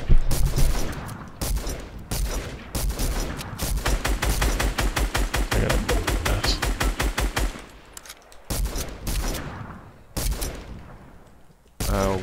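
Rapid automatic gunfire in Fortnite, loud close bursts of evenly spaced shots firing in long runs with brief pauses between volleys, while players talk over the shooting.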